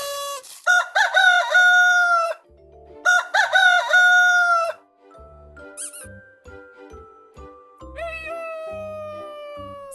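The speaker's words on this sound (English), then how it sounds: "Find the rooster." A cartoon rooster crows in a children's video game, two loud, bright cock-a-doodle-doo calls with other playful cartoon animal sounds and game chimes filling the gaps.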